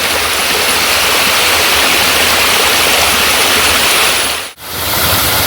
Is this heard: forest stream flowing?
yes